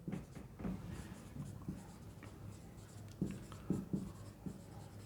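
Chalk or marker writing on a board during a maths lesson, a series of soft scratchy strokes in short bursts, fairly quiet with no talk over it.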